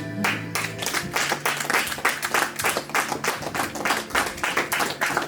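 Rhythmic group clapping in acclaim of Jesus at a worship gathering, steady repeated claps filling the space for several seconds with no voices over it.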